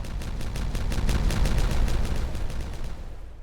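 Explosion in the beaver colony-building game Timberborn: a dense rumbling blast with a rapid string of crackling pops over a steady low roar, loud and sustained for a few seconds, no voices.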